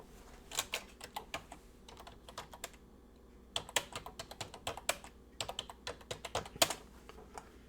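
Fingers type on a computer keyboard in quick clustered bursts of crisp, close key clicks separated by short pauses, quiet and with no voice.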